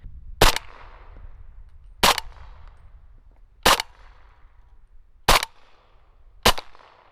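Five evenly spaced gunshots from a Q Honey Badger rifle fired at a 25-yard target, each a loud sharp crack with a short echoing tail, about one every second and a half.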